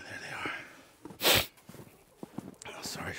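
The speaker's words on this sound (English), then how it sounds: "sorry for the sniffles" A sharp nasal sniff bursts out once, loud and close, amid soft breathing and quiet rustling.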